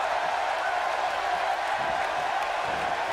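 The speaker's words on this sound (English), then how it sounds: "You hear some fans in the crowd tonight here in Las Vegas in Sin City" A wrestling arena crowd in Las Vegas in the WWE 2K18 video game produces a steady, distant roar of fans with faint applause, a continuous murmur without distinct chant words.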